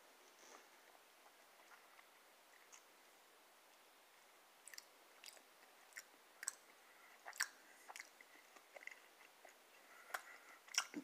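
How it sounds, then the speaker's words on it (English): Crunchy bites and chewing into a fruit with a seed from a premium fruit box, faint at first then a run of sharp close crackling crunches in irregular bursts. "Biting into the seed."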